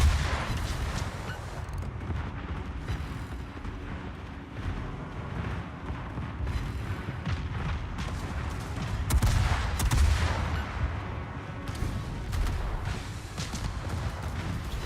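Heavy naval artillery in a video game booms continuously with dense, overlapping shots and rumbling blasts, loud and sustained without pause.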